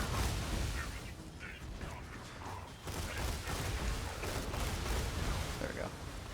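Bursts from a Dahl Hornet pistol in Borderlands 2 rattle in quick clustered pops amid dense mechanical clatter and chaotic combat noise, with a voice talking underneath.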